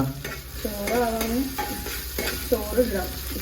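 Ghee rice being stirred in a pot makes repeated scraping strokes under a steady frying sizzle, close and moderate in volume, with no talking.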